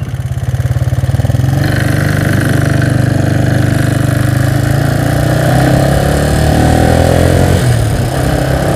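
A motorcycle engine fitted with a 24mm PWK carburetor idles loudly and close by, a steady throbbing drone with slight shifts in pitch as it runs, and no talking over it.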